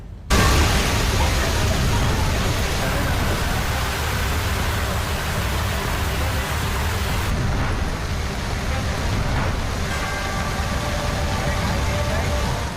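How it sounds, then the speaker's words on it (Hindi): Heavy rain and rushing flood water roar continuously across a flooded city in Madhya Pradesh, a dense, steady wash of noise with no pauses, loud and close throughout. "कहीं सैलाब का शोर है"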